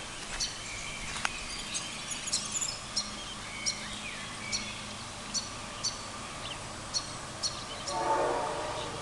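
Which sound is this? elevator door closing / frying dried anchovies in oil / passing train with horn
passing train with horn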